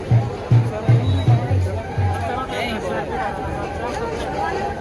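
A large crowd gathers at a Ganpati procession in Nashik, where a trolley has stopped: a dense, steady babble of many voices, with a few louder rhythmic pulses near the start.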